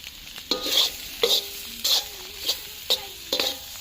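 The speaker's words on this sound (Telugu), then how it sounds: "లివర్ ఫ్రై అయిపోయింది దింపేసే ఇక" Chicken or mutton liver fries in a pan at a family picnic cookout, with a steady sizzle under repeated scraping stirs, about six strokes in an uneven rhythm, close and clear, with no talking.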